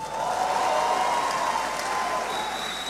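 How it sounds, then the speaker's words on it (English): A church congregation claps in dense, steady applause at a Covenant Day of Healing service in Kano, Nigeria, a continuous wash of hands with no pauses. "If that clap is for Jesus, do it better."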